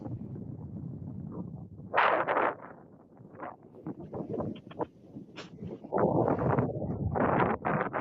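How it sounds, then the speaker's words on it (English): Gusty wind buffets an outdoor microphone in uneven bursts, loud rumbling gusts alternating with quieter lulls, with no voices. "I'm going to turn the volume off because it's awful windy."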